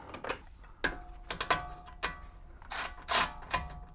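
A ratchet wrench clicks while tightening a front suspension bolt on a BMW E90, coming in short bursts of close, crisp mechanical clicks with brief pauses between strokes and no talking.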